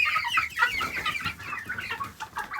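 Several chickens cluck busily around a feeder on a homestead, a dense, near chorus of overlapping clucks and squawks with no talk.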